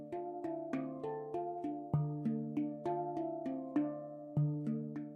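Handpan played solo in a song, steady melodic strikes with warm ringing tones and a deep bass note landing twice, each hit blooming and fading into the next, clean and close with no voices.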